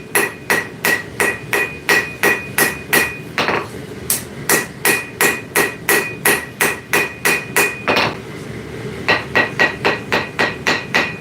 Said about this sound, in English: Talk about an anvil that has 0 ring.